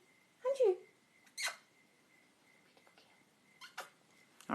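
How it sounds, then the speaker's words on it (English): An elderly 19-year-old house cat gives a few short, squeaky kitten-like chirps and mews instead of a proper meow, brief scattered calls close by in a quiet room. "she makes little kitten noises because she doesn't know how to meow like a cat"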